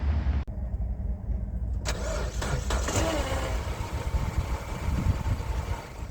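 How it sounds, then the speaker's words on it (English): A 2007 Mini Cooper struggling to start: a starter motor cranks for several seconds with a rough, labored drone, the engine failing to catch cleanly, heard up close. "Car has struggles to start."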